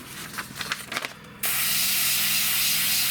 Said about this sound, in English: And you can blast paint down really fast, quick.